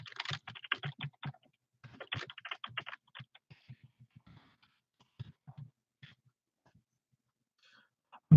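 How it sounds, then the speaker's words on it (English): Bursts of typing on a computer keyboard, quick clattering runs of keystrokes broken by pauses, close and moderately loud with no talk, ending in a sharp louder knock. "my typing has gotten a lot better recently"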